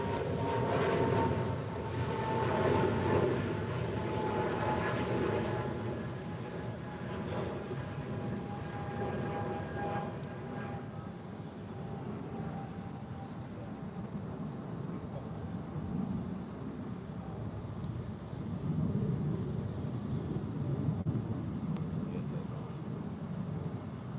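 A jet aircraft roars in steadily while landing at DFW airport, a broad, continuous engine rumble from moderate distance that swells and eases, with radio voices faintly mixed in.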